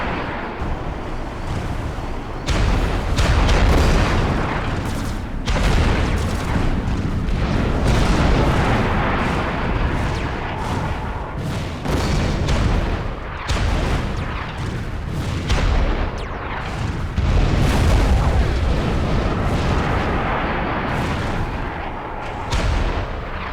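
A commander unit is blown apart in the real-time strategy game Supreme Commander: Forged Alliance, with loud, continuous booming explosions and artillery-like blasts rolling on for over twenty seconds, no voices.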